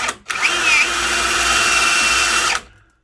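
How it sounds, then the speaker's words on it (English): A power drill running a Forstner bit into a slab door for a latch striker plate, one loud close whirring burst of about two seconds that rises and then stops abruptly. "Switch back over our Forstner bit,"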